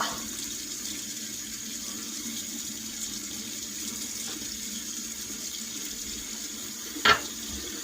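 A bathroom tap runs steadily as soap is rinsed from a shaving brush, a continuous close hiss of water with a brief sharp knock near the end.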